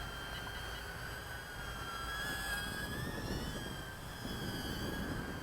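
A Cheerson CX-10WD mini quadcopter drone hovers and flies, its tiny rotors producing a steady high-pitched whine with shifting tones as it changes pitch and yaw, holding fairly constant in level throughout.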